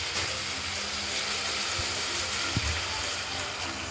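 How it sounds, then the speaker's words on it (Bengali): Water poured into a pan of rohu fish curry with potato, green banana and ground spice paste, a constant hissing, bubbling rush up close, with one brief knock partway through and no voices. "জল দিয়ে দিলাম।"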